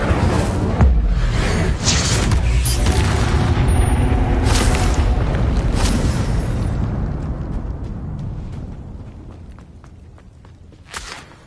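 Incendio fire spell cast in Hogwarts Legacy, a loud whooshing burst that swells and roars, then gradually fades into a lingering rumble with a small pop near the end.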